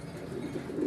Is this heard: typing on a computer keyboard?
no